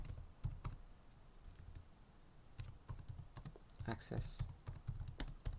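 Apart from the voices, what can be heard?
typing a command on a computer keyboard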